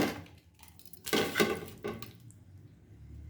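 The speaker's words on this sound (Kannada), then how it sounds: "ಟೊಮೊಟೊ ಹಾಕ್ತಾ ಇದ್ದೀನಿ ನೋಡಿ" Tomatoes dropped by hand into a mixer jar in a home kitchen: several clattering, knocking impacts against the jar, loudest in the middle, with quieter handling rattles around them and no talk.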